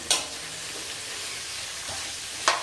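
Potato pieces, curry leaves and spices being stirred in a hot pan with ghee while making jeera rice, a soft continuous sizzle with a few brief scraping clinks of the spoon, fairly quiet.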